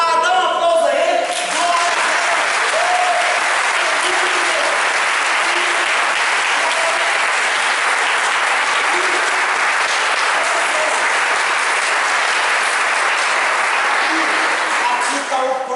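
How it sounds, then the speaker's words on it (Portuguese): A church congregation applauds during a sermon, steady loud clapping that fills the space for about fifteen seconds, with a few voices calling out near the start and end. "dá um aplauso a Ele."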